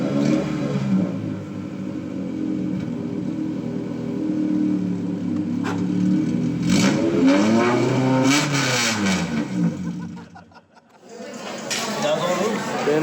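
A car engine revs up and falls back a few times, rising and dropping in pitch, loud and close, with people talking over parts of it.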